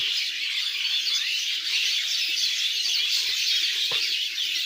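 Constant high-pitched chirping from a crowd of birds, a busy layered chorus with no voices and one sharper call near the end.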